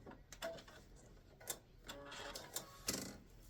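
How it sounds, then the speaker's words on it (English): An embroidery machine back stitching to lock the thread on a fabric hot pad, quiet rapid ticking stitches with a few sharper clicks, close by and without talk. "I'm going to back stitch and lock it in"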